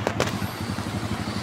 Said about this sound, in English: There's cars everywhere. I wonder where this traffic reaches.